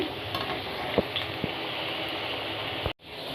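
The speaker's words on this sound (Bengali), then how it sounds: "মাছের ঝোলের জন্য আলুগুলোকে ফ্রাই করে নিচ্ছি" Potatoes frying in hot oil in a pan for a Bengali rui fish curry with cauliflower and bori, a steady close sizzle with a few sharp stirring knocks and a brief drop to near silence near the end.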